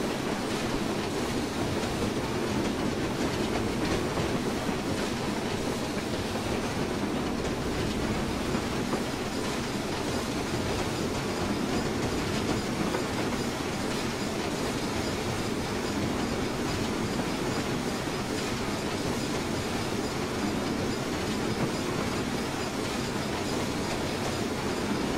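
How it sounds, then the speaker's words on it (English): BR Black 5 steam locomotive running on the Western Lines of Scotland in Train Simulator 2015, a continuous dense rumble of wheels and engine with faint rhythmic clatter, steady and loud throughout without speech. "Trying to drive the loco quite inefficiently now to aid the boiler pressure going down."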